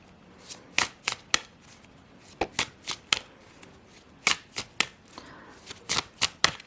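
Glossy, slippery oracle cards being shuffled and cut by hand, giving a series of crisp riffling flutters and slaps in short bursts, close and clear, with no talking.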